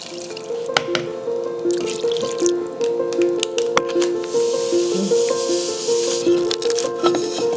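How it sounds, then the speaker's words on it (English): Water poured onto rice, a barley culture and malt base in a container while making Korean makgeolli rice wine, producing a steady close splashing and trickling flow with a soft hiss throughout, alone without talk. "And we will put 8 cups of water."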